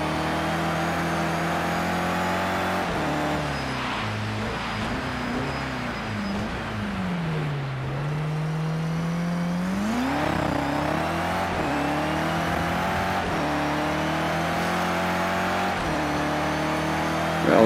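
Race car engine in a racing video game on a wet track, a continuous droning note that dips, rises and wavers as the throttle is held near idle, running steadily with no talk.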